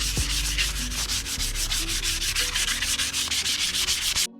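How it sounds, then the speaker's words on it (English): Rhythmic wet sanding of a Bassani motorcycle exhaust pipe with wet 220-grit sandpaper, fast back-and-forth rubbing strokes repeating evenly and close up, with no talking. "now we're going to start with the wet sanding with the 220 grit"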